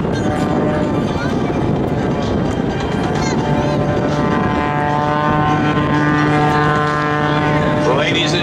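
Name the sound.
aerobatic aircraft propeller engine hovering on its tail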